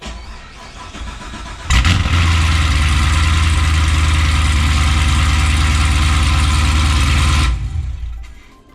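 A car engine with a loud aftermarket exhaust fires up and roars loudly through its deep, rumbling exhaust, holding steady for several seconds before cutting off abruptly.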